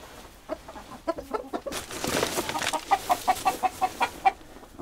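Chickens on a farm in Gombaeryeong, clucking close by in an irregular run that settles into a steady series of about eight short clucks. Soft rustling sits underneath.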